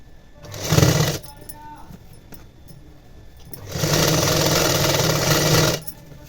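A sewing machine stitching a border onto the edge of a blouse runs in a short burst, pauses, then runs again in a longer steady whir, close by.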